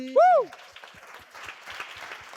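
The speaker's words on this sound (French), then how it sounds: "On peut les applaudir. Bravo." Applause for the winning team at a game-show-style quiz event, heard as faint, scattered clapping in the background after a short rising vocal sound at the start.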